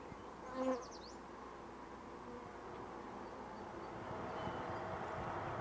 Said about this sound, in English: there are clouds of them at the hive entrances